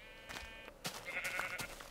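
Sheep in the video game Minecraft give a couple of short, nasal bleats, close and clear with some game sound effects around them and no talking.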